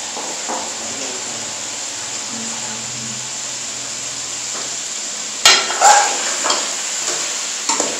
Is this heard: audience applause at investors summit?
no